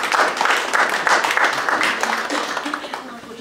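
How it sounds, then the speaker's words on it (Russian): A concert audience applauds a singer's performance with brisk clapping that fades toward the end, while someone talks over it. "Аплодисменты нашим женщинам."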